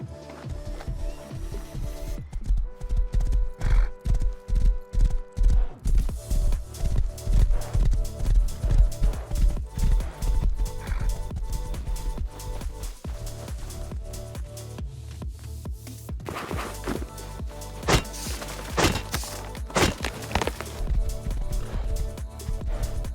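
Horse hooves clip-clopping in a steady galloping rhythm as a rider roams across open terrain in the survival game Rust, loud and close with no speech.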